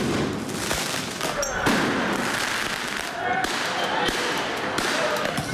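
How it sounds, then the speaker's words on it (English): Fireworks burst at a street protest in a series of sharp cracks and bangs, several loud pops spaced irregularly over a noisy crowd background. "last night our crew saw fireworks thrown at officers"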